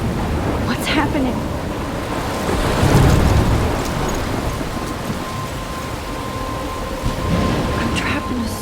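A stormy scene in the video game Life is Strange, with heavy rain pouring steadily and a deep roll of thunder swelling near the middle, loud and close throughout.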